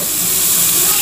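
Bacon frying in a cooking pot, a steady close hiss and sizzle filling the whole moment without pause.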